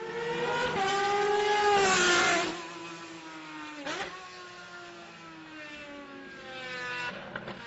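Indy race car engine, 2011 IndyCar, rising and falling in pitch through several loud revs and passes, a strong harmonic whine sweeping up and down with no talk over it.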